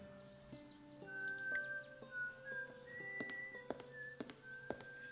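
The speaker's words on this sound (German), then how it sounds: "wenn er nochmal pfeift, müssen wir es nochmal aufschreiben" A game character in Broken Sword 5 whistles a short melodic tune, a string of clear separate notes over a faint steady background, close and moderately loud with no talk.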